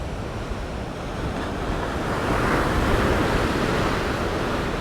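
Strong ocean surf pounding a rocky Sydney shoreline, with gusting wind buffeting the microphone in a continuous, loud roar that swells slightly midway.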